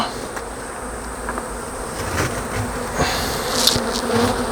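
Honeybees buzzing loudly and steadily around a hive that is being moved and split into boxes, a dense close swarm hum with a few bees passing right by the microphone.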